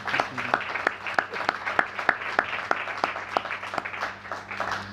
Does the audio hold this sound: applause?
yes